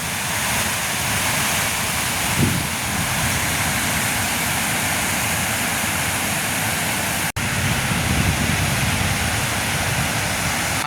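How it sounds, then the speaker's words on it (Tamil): Water overflows the spillway of Muthaiyankattu tank after heavy rain, a continuous loud roar of rushing water, steady throughout apart from a brief dropout near the middle. "24 அடி தண்ணி வந்தால் தான் இந்த கலிங்கி கண்ணால் வந்து தண்ணி ஆட்டோமேட்டிக்காக வந்து பாஞ்சு கொண்டிருக்கு"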